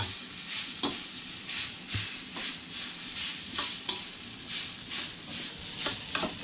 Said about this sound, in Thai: ผัด ไปผัด ไป ผัดไปเรื่อยๆนะครับ มัน ใกล้สุกละ เนื้อปลาใกล้สุกนะครับนะ